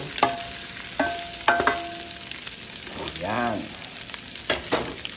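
Sausages and meatballs sizzle steadily in a frying pan, with clinking utensil strikes as they are stirred and a brief spoken word.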